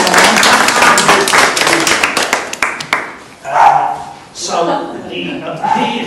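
A round of clapping at an open day greets the new chair, sharp hand claps filling the first half before fading as voices take over.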